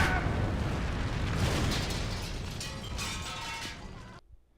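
Explosion in the horror movie Jack Frost: a broad rumbling blast with crackling debris that roars steadily, then fades and cuts off abruptly, loud and alone.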